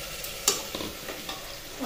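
Washed rice stirred into egg biryani in a pot, giving a faint scraping of spoon on metal with a soft sizzle, a few brief stirring strokes close by.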